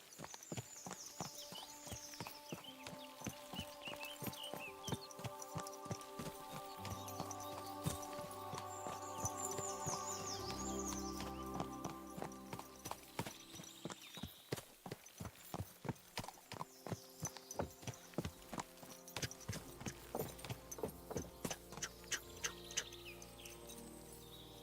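Horse hooves clip-clop at a steady walking pace along a path in the Kingdom Come Deliverance 2 video game, over a soft musical score, with the hoofbeats growing more prominent toward the end.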